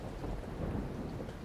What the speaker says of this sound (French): la pluie martelait les trottoirs de la ville